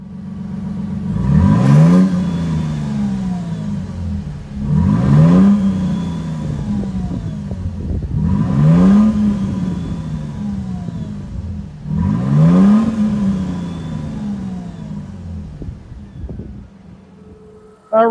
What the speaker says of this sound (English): since we got dual exhaust, let's check it out,